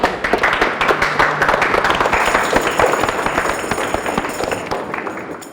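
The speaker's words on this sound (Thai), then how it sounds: "ขอเสียงปรบมือให้เพื่อนนะครับ" A dense wash of clapping and cheering from a Thai audience greets a friend called up to sing on stage, loud and steady for several seconds before easing slightly toward the end.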